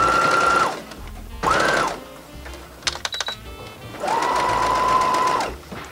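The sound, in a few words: sewing machine stitching close to the edge of an apron skirt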